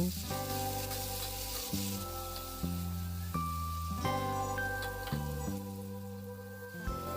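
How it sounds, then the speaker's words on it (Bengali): Chopped tomato with salt fries in a pan, giving a continuous soft sizzle that sits beneath louder sustained background music for the whole stretch. "এখন টমেটোটাকে দুই মিনিটের মতো ভেজে নেব"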